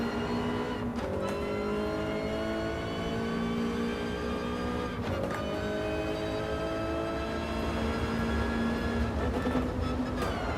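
A race car in Gran Turismo, driven with a Logitech G29 wheel, winds up through rising engine notes, with sharp downshift blips breaking the climb near the start and again midway, loud and continuous.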